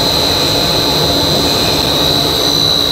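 A high-speed blown film machine runs with its main motor at 30 Hz, giving a dense, loud, steady mechanical roar with a sharp high whine on top, continuous and without speech.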